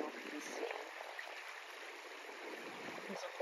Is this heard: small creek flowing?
yes